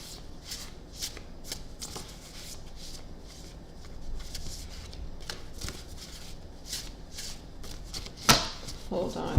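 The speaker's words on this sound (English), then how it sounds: "I was trying to shuffle my Kpop cards" Playing cards are riffled and shuffled repeatedly in quick, crisp bursts close by, with a voice murmuring in the background.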